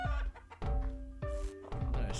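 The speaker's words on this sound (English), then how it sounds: "I found Goldie the hen." Goldie the hen in the video game LISA clucks in a few short, close, clipped bursts with brief gaps between them, alone without talk.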